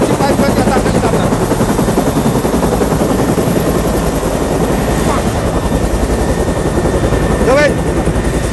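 An MG-520 attack helicopter flies overhead during a Philippine Air Force airstrike operation in Sulu, its rotor thumping loud and continuous throughout, with a voice speaking over it.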